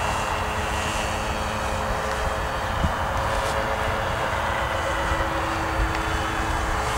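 A radio-controlled autogyro engine runs at full throttle in the air, a steady buzzing drone that holds level and fairly close without pause, with no talk.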